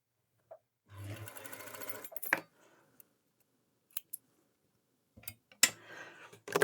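A manual overlock sewing machine that runs without electricity stitches thin, lightweight fabric in a steady mechanical rattle lasting over a second. Sharp isolated clicks and snips follow, then a second short burst of stitching.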